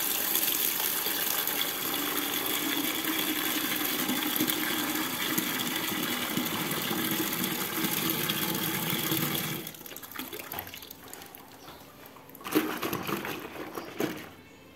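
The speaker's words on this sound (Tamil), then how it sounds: "நான் பார்த்தீங்கன்னா ஒரு தடவை வாஷ் பண்ணி பார்க்க போகிறேன்." A car gear lever cover is washed under a running tap, a steady rushing gush of water for about ten seconds that then cuts off, followed by quieter handling noises and a brief splash.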